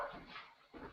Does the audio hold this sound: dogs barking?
yes